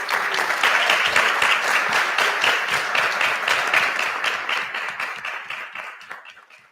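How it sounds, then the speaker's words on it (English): An audience at a school board meeting gives a round of applause for award recipients, with dense, steady clapping that gradually thins and fades toward the end. "How about a nice round of applause?"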